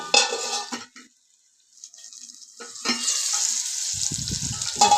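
Rohu fish curry with potato and pointed gourd being sautéed in oil, bursts of sizzling and frying hiss with clinks of a spatula against the pan, a near-silent pause in the middle, then steady sizzle returns.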